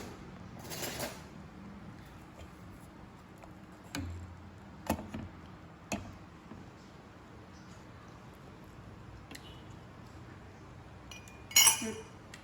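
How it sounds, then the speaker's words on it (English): Hot and sour soup being stirred after vinegar and white pepper go in, with sparse utensil clinks against the pot spread over a quiet kitchen background, including a louder clatter near the end. "now I'm gonna mix in my vinegar and white pepper"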